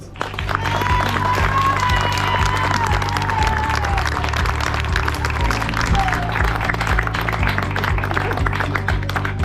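An audience at a reading-hut inauguration in Bachères, Tamines, applauds Monsieur Farid, a mason, with sustained clapping over steady background music and crowd murmur.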